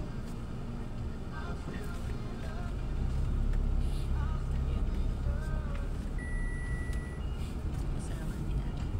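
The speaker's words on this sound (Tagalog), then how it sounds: "Ay, Hindi, ang traffic dito." Weekend road traffic passes near a church, cars and trucks rumbling steadily with a reversing beep, engine noise swelling midway, while people talk over it.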